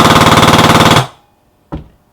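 A Matrix M240B airsoft machine gun driven by a Polar Star Fusion Engine on a scuba-tank air supply fires one loud, rapid burst lasting about a second. After a short silence comes a single sharp click or pop.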